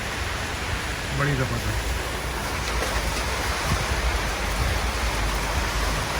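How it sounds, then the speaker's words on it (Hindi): Heavy rain pours in Thailand as a dense, steady, roaring wash with no letup, heard from inside a vehicle while someone speaks briefly. "अब आ गया बारिश भाई।"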